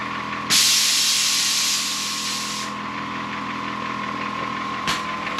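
Air ride suspension on a VW Lupo fitted with double bellow bags releases a loud, steady hiss of air for about two seconds, then drops to a lower background hum, followed later by a brief short puff.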